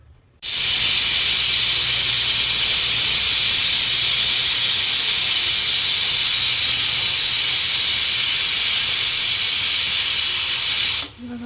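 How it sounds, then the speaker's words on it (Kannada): A pressure cooker cooking beetroot palya lets out a loud, close, continuous steam hiss that holds steady for about ten seconds before cutting off, with no whistle. "ಇವಾಗ ಲಿಡ್ ಕ್ಲೋಸ್ ಮಾಡಿ ಒಂದು ಮೂರರಿಂದ ಎರಡು ವಿಷಲ್ ಬರೋವರೆಗೂ ಇಡೋಣ"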